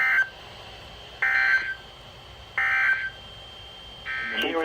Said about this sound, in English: This concludes the test of the NOAA radio warning alarm device, an emergency alert system